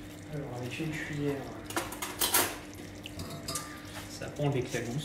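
Spoon stirring crème anglaise in a pan, with light scraping and clinking against the metal in short bursts over a busy kitchen background, and a voice talking throughout.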